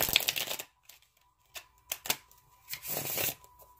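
A deck of tarot cards is shuffled in a few quick bursts of riffling and slapping, with short pauses between them. The sound is close and crisp, and no one speaks.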